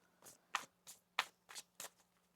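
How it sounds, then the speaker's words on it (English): Tarot cards are shuffled in about six short, soft riffling bursts spaced roughly evenly apart, quiet and close with no talking. "One more shuffle here."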